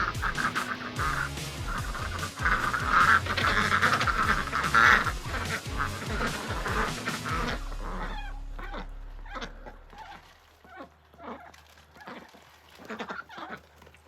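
A group of ducks quacks excitedly and continuously while gobbling peas, loud and close at first, then thinning into scattered quacks and pecking sounds.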